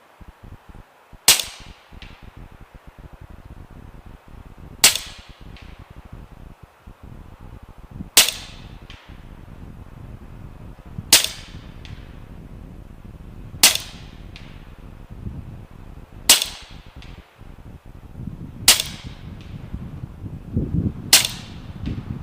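Eight evenly spaced sharp gunshots from an LCS SK19 .25 caliber rifle fired at a target 100 yards away, each a crisp crack with a short tail, loud and close, no talking.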